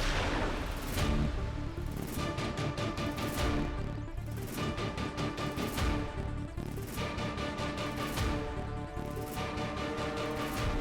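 Repeated loud gunshots in rapid bursts, sharp cracks with booming echoes, firing in several volleys with brief pauses between them.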